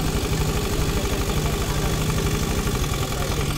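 A Honda Beat FI scooter engine idles steadily up close, a continuous even putter with a slightly rough, knocking rhythm and no voices.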